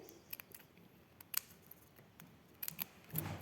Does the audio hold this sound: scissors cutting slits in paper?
yes